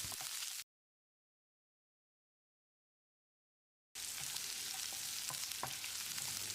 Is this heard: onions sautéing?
yes